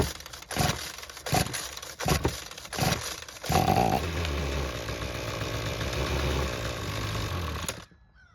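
A Ryobi string trimmer with a no-start fault, its small two-stroke engine primed with fuel and pulled several times in short bursts, then catches and runs steadily at a loud, buzzing idle for several seconds before cutting out abruptly.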